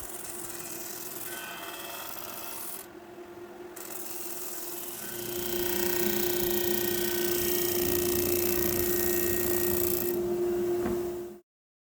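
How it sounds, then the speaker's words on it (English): A disc sander grinds steadily against the edge of a laminate vanity top, trimming it down to a line. The rasping whine runs loud and close with a brief dip before stopping abruptly. "Then I'll trim everything down to the line with a disc sander."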